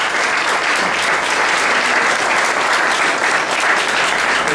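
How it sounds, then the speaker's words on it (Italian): Steady, dense applause fills a municipal council presentation in Catanzaro as the new deputy mayor is introduced, loud and continuous throughout with no pause. "Se volete le potete fare un applauso."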